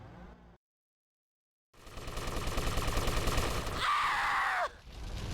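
Gunfire in GTA Vice City Stories, a dense, loud stretch of rapid automatic shots after a short silence, ending with a harsh burst and an abrupt cut.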